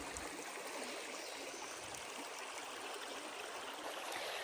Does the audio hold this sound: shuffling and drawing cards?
no